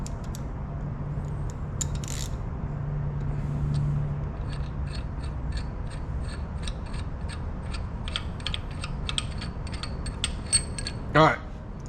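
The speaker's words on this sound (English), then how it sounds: "I'll have to loosen this up since I tightened it up with a wrench" A wrench loosens a pulley bolt on a 5.7-liter LS engine being built for a 2006 Chevy Tahoe, giving off a rapid series of quiet ratcheting clicks over a steady background hum in a workshop.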